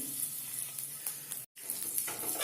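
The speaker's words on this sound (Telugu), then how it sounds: "నూనె వేడెక్కిందండి దాంట్లోకి రెండు పచ్చిమిరపకాయలు వేస్తున్నాను కట్ చేసుకున్నాను తర్వాత కరివేపాకు ఇవి కొంచెం వేగాలి" Green chilies and curry leaves sizzle steadily in hot oil in a pan for egg curry, a continuous close crackle with a brief dropout near the middle.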